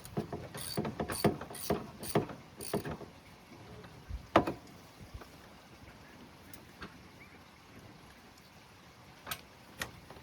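A ratchet loosens an O2 sensor on a car, giving a quick series of close, crisp clicking bursts at the start, then sparse isolated clicks spread through a quiet stretch.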